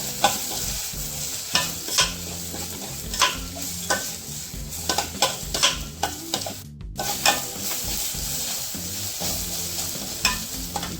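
A spoon stirs spiced masala pasta mixture with garam masala and turmeric in a hot pan, making rhythmic scraping strokes about once a second over a continuous sizzle, with one brief silent gap near the end.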